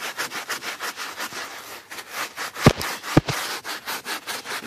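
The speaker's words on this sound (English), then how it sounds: "Just go to scrubbing this. It's just using plain Dawn now." A brush scrubs a dirty carpet worked with plain Dawn dish soap, giving rapid rhythmic back-and-forth rasping strokes up close, with a couple of brief louder knocks partway through and no speech.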